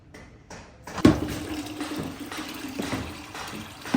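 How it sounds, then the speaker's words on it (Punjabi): Tap water runs and splashes over salt and chili containers being washed in a village kitchen, starting abruptly after a brief quiet, with a steady close-up flow and small clatters. "ਲੂਣ ਮਿਰਚਾਂ ਦੇ ਡੱਬੇ ਜਿਹੜੇ ਆ ਨਾ ਮੈਂ ਕਿਹਾ ਇਹ ਧੋ ਲਾਵਾਂ"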